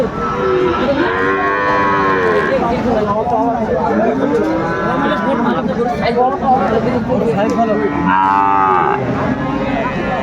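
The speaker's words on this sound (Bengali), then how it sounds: "আমরা দেখছিলাম এখানে গরুটি দেখছেন শাহাদত ভাই" Sahiwal cattle at a livestock market in Natore, Bangladesh, moo loudly and repeatedly, with long drawn-out calls over a steady hubbub of crowd chatter and people talking nearby.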